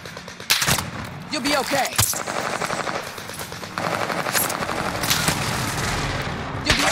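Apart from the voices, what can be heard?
gunfire in video game Call of Duty Warzone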